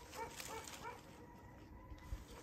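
Faint, distant dog barks drift in a few times over a quiet outdoor hum, soft and far off, near a river.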